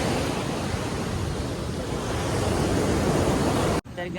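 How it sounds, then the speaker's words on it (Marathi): Big sea waves at Dadar Chowpatty beach in the dark, a loud, continuous broadband roar of surf mixed with wind buffeting the microphone, cutting off abruptly near the end. "पाण्याच्या लाटा येत आहेत मोठ्या"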